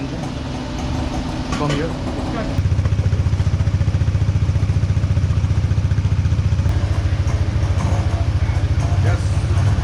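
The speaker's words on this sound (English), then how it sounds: "And now I have to start the engine" A Bajaj Dominar motorcycle engine starts at an emissions and vehicle test point in Sri Lanka, then settles into a loud, steady, throbbing idle close by, with a person talking briefly before it catches.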